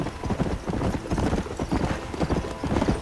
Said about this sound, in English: what makes this game different is because you get to ride horses